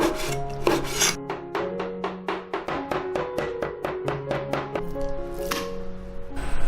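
A cleaver mincing pork leg meat on a wooden board gives rapid, steady chopping thuds, close and loud, a long run of evenly spaced strikes with no talking.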